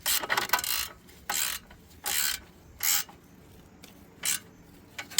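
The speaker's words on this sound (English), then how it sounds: "Tighten these down to the point where it's snug" Bursts of ratchet clicking come from a wrench snugging 21 mm nuts on the upper control arm of a Ram 1500, in five or six short, close, evenly spaced spells with quiet gaps between them.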